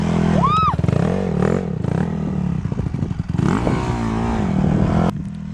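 A dirt bike engine buzzes loudly and steadily while riding, pitch rising and dipping as gears shift, with rattling clatter throughout and voices briefly heard over it.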